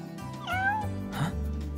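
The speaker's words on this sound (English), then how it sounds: "It's a cat." A small cat in Final Fantasy XV gives a clear, close meow with a rising then falling pitch, followed by a second softer mew, over faint background game ambience.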